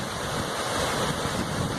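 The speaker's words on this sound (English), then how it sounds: "now we've got an actual waterfall, which is absolutely mind-blowing." A waterfall in the Yorkshire Dales pours in a brief, steady, broadband rush, close and fairly loud, mixed with wind buffeting the microphone.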